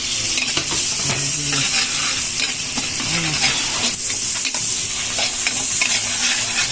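Loud continuous sizzle of onion and garlic sautéing in butter for buffalo wings, a dense hiss with occasional stirring scrapes and low bubbling throughout, close and steady.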